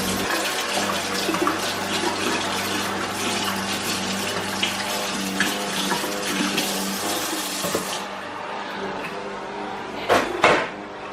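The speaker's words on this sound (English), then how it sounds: "Wash this stuff off my hand." Tap water runs steadily into a kitchen sink while hands are rinsed under it, a continuous close splashing hiss that cuts off near the end with a couple of knocks.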